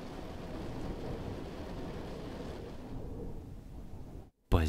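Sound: thunder

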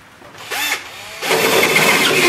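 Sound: power drill enlarging holes in car body

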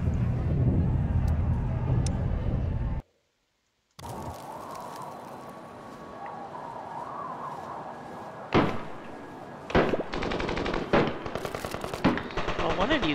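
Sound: machine gun fire in Surviving the Aftermath video game

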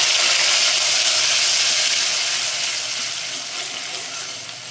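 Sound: tomato and chickpea paste added to hot oil, frying

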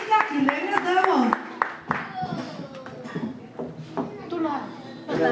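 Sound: applause for Gerardo Salamanca

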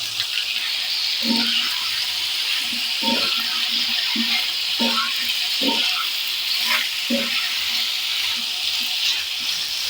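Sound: vegetable curry frying in oil

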